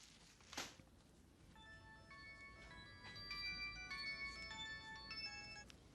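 Phone ringtone playing a melodic tune of repeated electronic notes during a call, quiet and steady after a brief soft knock, with no talk over it.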